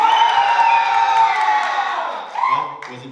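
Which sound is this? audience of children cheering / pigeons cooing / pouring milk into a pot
audience of children cheering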